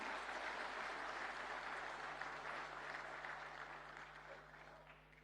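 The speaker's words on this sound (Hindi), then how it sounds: "एक बार जोरदार तालियां" An audience at a formal government ceremony in India applauds a Union minister, with dense clapping from many people that gradually fades toward the end.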